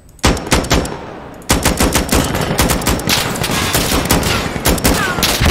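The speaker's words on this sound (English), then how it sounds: "And the gun sounds and the grenade explosions are awesome." Rapid bursts of gunfire crack and rattle nonstop in the tactical shooter Insurgency Sandstorm, loud and close, with dense automatic fire and heavy booms layered together and no talk.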